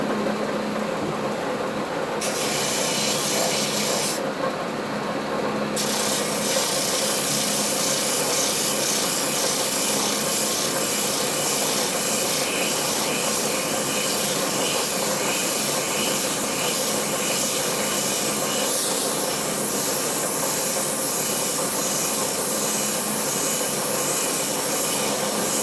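A power sander whirs continuously with a steady abrasive hiss, close up and running without pause, sanding a wooden knife handle.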